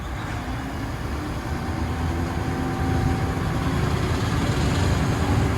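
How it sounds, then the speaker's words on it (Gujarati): Heavy machinery hauls a fishing boat out of the harbour water onto land at Porbandar, giving a steady, loud, low engine rumble that builds slightly partway through, with no talking. "જો કઈ રીતના બોટને ઉપાડે."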